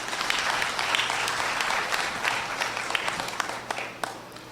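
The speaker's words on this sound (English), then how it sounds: "I really want you to give them a round of applause." A crowd at a waterfront redevelopment feasibility presentation in San Fernando, Trinidad claps in a sustained, even round of applause, loud and close, with no talk over it.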